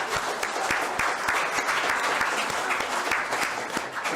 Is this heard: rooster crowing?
no